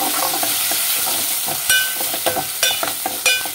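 Tomato pieces fry and sizzle in a pan for a cauliflower curry, with a continuous crackle and repeated scraping strokes of stirring close by, no voices.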